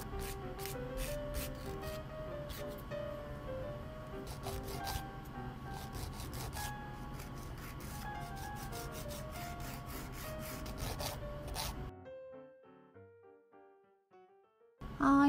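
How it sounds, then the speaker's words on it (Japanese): A nail file rubs over the rough, prickly spots of a cured gel nail coating, making steady close scratching strokes that fill the first twelve seconds before the sound drops away into near silence. "で、この時にちょっとチクッとしているところは削っておきます。"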